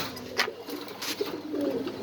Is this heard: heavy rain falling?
no